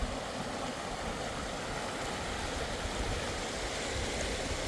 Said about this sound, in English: And this will be Jenny Creek up above the bridge.